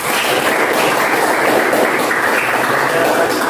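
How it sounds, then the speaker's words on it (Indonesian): A classroom of pupils clapping together at the end of a science lesson, a dense, continuous patter of many hands at close range, steady and even throughout with no talking. "Tepuk tangan untuk kita semua dulu."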